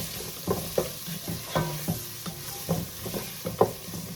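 Celery and onions cook down in a pan, a steady close sizzle broken by several soft scraping stirs of a utensil, with no voices.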